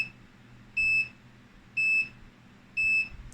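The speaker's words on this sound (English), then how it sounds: "Okay, so now we're getting some beeping" An Armac 650 UPS sounds its alarm: three sharp, evenly spaced electronic beeps about one second apart, each lasting roughly a quarter second, loud and close over a faint low hum.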